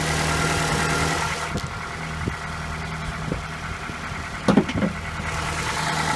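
A 2011 Ford Escape's 2.5-liter four-cylinder engine idles steadily at close range, a low even rumble with a few faint clicks and a brief clunk partway through.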